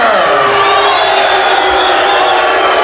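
A wrestling arena crowd jeers a female wrestler after a knockout finish, a loud, steady roar of many voices with scattered whoops and shouts rising over it throughout.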